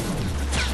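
A bomb blast in the video game Fortnite comes as a loud, dense, broadband roar of crashing noise, filling the whole brief moment at close range.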